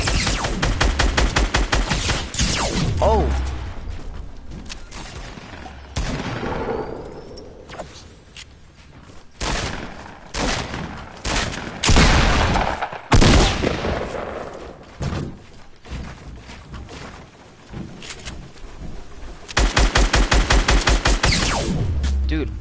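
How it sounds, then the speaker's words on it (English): Heavy gunfire in an online shooter game comes from all sides, with rapid bursts and machine-gun rattles that swell and fade, loud and near. Scattered footsteps and whooshes mix in, and brief voices sound between volleys. "I'm getting shot from everywhere."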